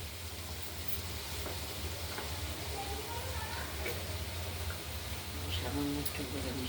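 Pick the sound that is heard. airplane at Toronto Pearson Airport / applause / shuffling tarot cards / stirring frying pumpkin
stirring frying pumpkin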